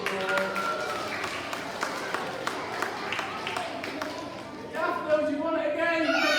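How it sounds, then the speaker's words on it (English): A school celebration assembly breaks into applause, scattered clapping from children and staff mixed with crowd chatter and voices, moderately close and lively. "Give them a big round of applause."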